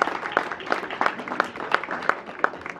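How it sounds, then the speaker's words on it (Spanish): A crowd applauds a guest at a traditional games event in Monte Escobedo, Zacatecas, with moderately loud clapping that settles into a fairly rhythmic beat over the background noise. "Un aplauso para ella."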